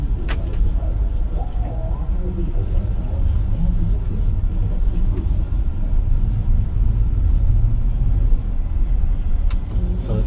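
An MG G50 Plus pulling away from a stop, steady low engine and road rumble heard from inside the cabin, continuous and fairly loud throughout.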